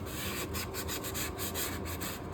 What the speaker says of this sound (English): Just using sandpaper to smooth out any last little bits and humps that might be in there.